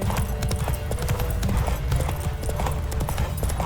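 Horse hooves gallop at a steady, rapid clip-clop through a horse race in The Witcher 3 video game, loud and continuous with a brief whinny and no clear speech.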